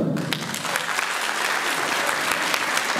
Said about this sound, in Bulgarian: Аплодисменти за свекървата